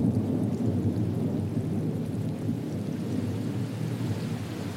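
Steady heavy rain with low rolling thunder rumbling throughout a thunderstorm, a dense, continuous roar with no voices.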